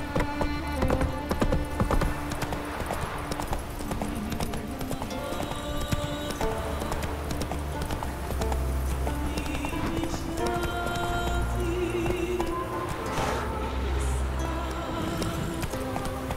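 Roach, a horse in The Witcher 3, galloping at steady pace with continuous rhythmic hoofbeats, accompanied by game music, creaking tack and a brief whinny.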